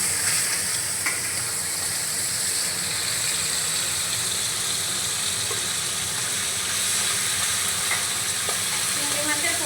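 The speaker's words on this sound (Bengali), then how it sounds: "এবার আমি চিংড়ি মাছগুলো ভেজে নেব।" Prawns sizzle and crackle steadily in hot oil in a pan, a constant close-up hiss of frying that carries on without talk, made for a potol-chingri dish.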